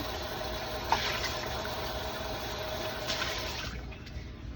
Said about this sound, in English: So we're just gonna rinse them out.